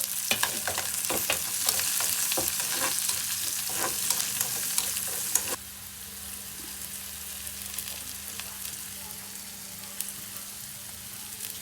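Green chillies frying in a pan with cumin and mustard seeds, a steady close sizzle with rapid scraping stir strokes that stop halfway, leaving a softer continuous crackle, no voices.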